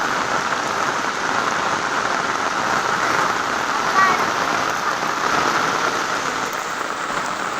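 Rain pours steadily over flooded rice paddies during planting in rural Konkan, Maharashtra, a dense, even hiss of drops hitting water and ground, nearby and unbroken.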